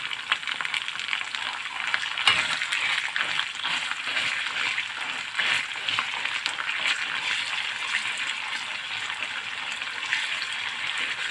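Sauce cooking in a pan on a stovetop gives off a steady, even sizzling hiss while it is slowly stirred, continuous and fairly close throughout, with no voices.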